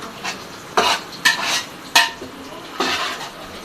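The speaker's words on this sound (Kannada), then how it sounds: "ಫುಲ್ಲು ಎಣ್ಣೆಯಲ್ಲೇ ಅದು ಫ್ರೈ ಆಗಬೇಕು" Biryani being stirred in a pot as it fries in oil, several distinct metal scrapes and clanks of a ladle against the vessel over faint sizzling, close and without speech.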